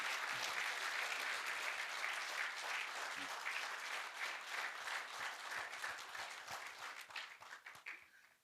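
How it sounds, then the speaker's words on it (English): A business meeting audience applauds itself in a large hall, dense sustained clapping from many people that holds steady for several seconds before thinning and tapering off near the end. "So please clap for all of yourselves"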